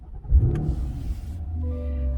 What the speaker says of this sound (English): So you'll see when I start the car,